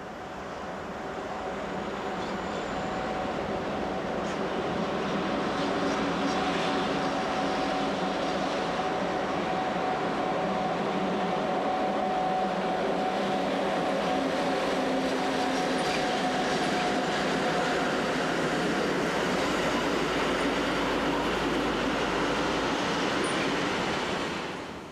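Austrian intercity train from Salzburg via Villach, hauled by a Class 1044 electric locomotive, arriving at the southern platforms of the Südbahnhof: a loud continuous rumble of wheels and carriages rolling steadily past for the full length, fading slightly at the end.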